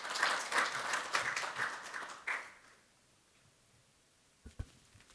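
A burst of audience applause greets a speaker at a social economy forum's launch ceremony. It lasts about two seconds, then trails off into a quiet room broken only by a couple of faint taps.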